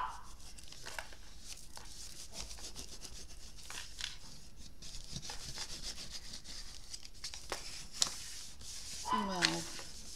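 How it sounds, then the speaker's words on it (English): Burnishing a drawing by rubbing it, a steady dry scraping and rubbing texture that carries on throughout at a quiet level, with a few brief sharper scuffs near the end. "Let's burnish that really well."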